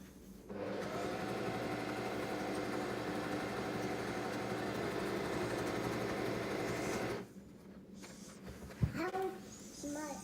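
A sewing machine runs a zigzag stitch along a cushion cover, giving a steady, close whirring drone for about six seconds before stopping. Faint voices follow afterward.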